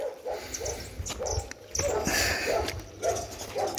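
A dog barks repeatedly indoors, a run of short, fairly close yaps mixed with whimpering tones, while a voice speaks in the background.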